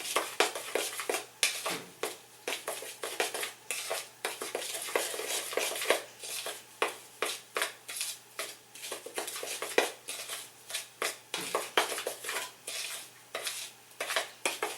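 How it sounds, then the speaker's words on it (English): Dry ingredients for whey protein cupcakes being stirred in a bowl, a rapid continuous series of close scraping and tapping strokes of a utensil against the bowl, steady rhythm throughout. "just want to stir that up in here."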